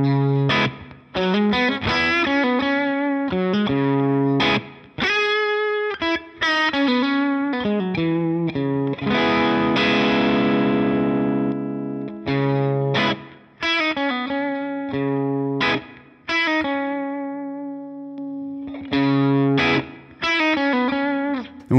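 Heavily distorted electric guitar through a Line 6 Helix amp modeler with the input pad switched off, playing chords and riffs in short phrases with brief pauses, loud and saturated, no voices.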